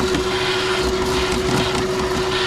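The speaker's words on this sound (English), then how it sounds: "we're going to vacuum out whatever debris we have" A vacuum cleaner sucks debris out of the air filter housing of a 2015–2022 Chevy Colorado or GMC Canyon with a 2.5-liter four-cylinder, giving a steady, loud whine and rushing airflow throughout, with no talk.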